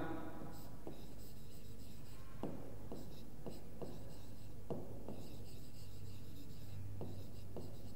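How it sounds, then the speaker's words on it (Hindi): A pen or marker writes on a board or paper during a math lesson on triangles, giving soft scratchy strokes in short bursts with pauses between, fairly quiet against a low steady background hum. "तो यहां पे मैं लिख देता हूं"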